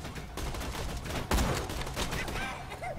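Gunfire in the Borderlands 2 video game crackles as a dense, steady fusillade for about three seconds, with one sharper, louder blast near the middle.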